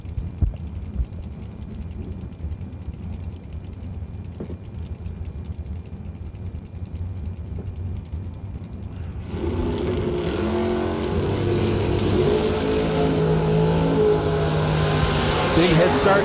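A 1991 Mustang and a Camaro launch at a drag strip: a low idle rumble gives way to a sudden loud, sustained roar of engines accelerating hard down the track, heard from nearby.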